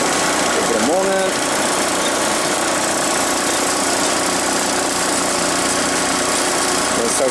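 A Hyster forklift engine with a low-power fault runs steadily at close range, a continuous droning idle with a slight change in tone near the start, while a voice talks over it.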